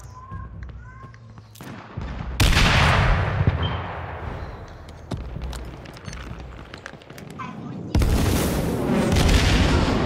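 Heavy gunfire from the battle royale video game H1Z1 rings out as loud, dense, booming shots and sustained bursts, continuous across the stretch with sudden louder surges.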